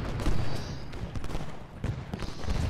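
Cannon and musket fire from the Ultimate General Gettysburg strategy game, a dense rumbling fusillade of overlapping booms and crackling volleys at moderate loudness, with no talk.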